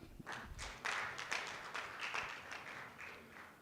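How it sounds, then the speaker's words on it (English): An audience at an award launch event breaks into applause, a burst of many hands clapping that rises after a brief pause and then continues steadily, moderately distant and fairly quiet. "Give him a big hand clap."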